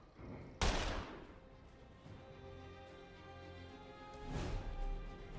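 Gunfire from The Lamplighters League, a turn-based tactical game: two sharp shots about four seconds apart, the first loud and abrupt and the second softer, over a steady low musical drone.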